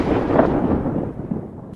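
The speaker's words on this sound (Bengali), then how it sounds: "এদিকে তখন আস্তে আস্তে আকাশ কালো হয়ে গেছে, চারদিকে বজ্রপাতের শব্দ।" A deep, rumbling thunder roll in a cartoon storm, loud and close, swelling briefly and then fading out over under two seconds, with no voices.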